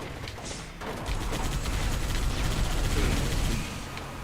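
Gunfire in a Halo game, a dense rolling burst of shots and rumbling blasts that swells and then fades, loud and close with no clear voices.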